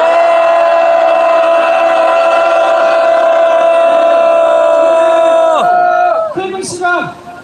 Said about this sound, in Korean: 윤석열 퇴진의 마음을 가득한 만세 함성 한번 질러보겠습니다.